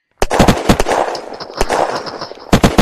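Gunfire in the video game Unturned, with several loud, sharp cracks in rapid bursts at the start and end and echoing rattle between them, close and alone.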